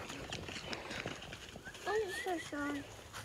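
Faint clip-clop of a ridden horse's hooves on pasture under nearby conversation, with a brief tonal call near the end.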